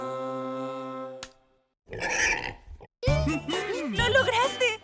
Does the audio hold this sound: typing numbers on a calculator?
no